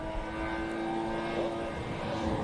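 A Toyota GT86 rally car on a rally stage drones with a steady engine tone, fairly faint and distant, held at a constant pitch, with no talking.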